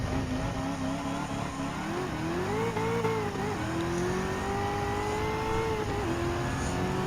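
A Corvette in the Gran Turismo 7 racing game, its engine roaring continuously with rising and falling revs as it accelerates and shifts, loud and steady throughout with no talking.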